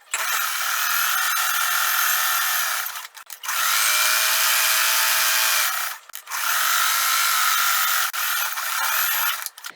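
A sewing machine stitching a pocket onto shirt fabric whirs in three long, loud, continuous runs, each ending with a brief stop before the next.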